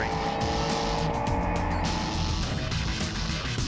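A Mercedes-AMG GT3 race car circles Sandown Raceway, engine roaring loud and close with revs rising and falling, tires squealing through a corner.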